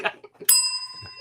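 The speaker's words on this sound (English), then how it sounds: "I know the bell. The bell has a long story." Single bright bell strike rings out and sustains, with brief bits of talk and murmuring before and around it.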